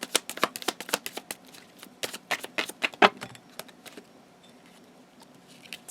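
Chakra Wisdom Oracle cards shuffled close up in a quick, crisp patter of flicks, with a short pause midway before the riffling resumes and then thins out. No one speaks.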